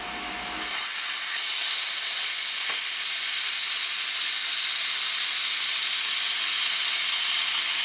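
Steam hisses loudly and steadily from the released valve of a pressure fryer cooking KFC-style chicken, a dense broadband rush that starts abruptly and holds without letup.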